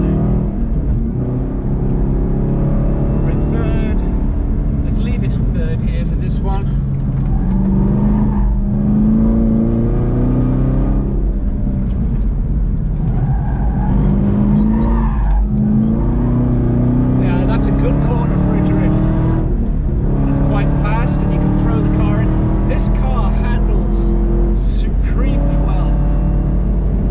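A Chevrolet Camaro ZL1 1LE drives on a race track in third gear, its engine droning and rising and falling through corners beneath continuous talk inside the car.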